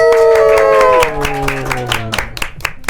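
An audience at an Indonesian school film event claps and cheers for a student actor, a dense burst of applause mixed with crowd noise and a sustained tone that fades, the clapping thinning out toward the end.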